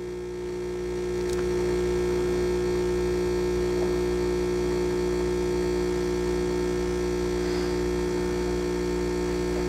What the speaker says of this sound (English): I wanna show you the double shot espresso coming out.